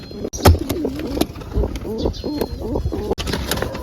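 Pigeons coo in repeated soft rolling calls close by, with a sharp tap or two in between.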